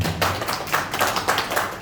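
An audience at an Indonesian motivational gathering welcoming Ramadan claps along in a quick, even rhythm of sharp hand-claps, close and steady for a couple of seconds.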